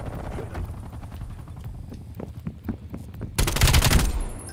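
Automatic gunfire rattles in bursts in a Call of Duty: Black Ops Cold War match, with scattered shots early on. A loud, dense close-range burst breaks out near the end.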